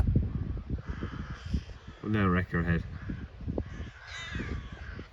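Crows caw loudly nearby around a cattle feeder in a couple of harsh, repeated calls, with someone talking over outdoor farm noise before and after them.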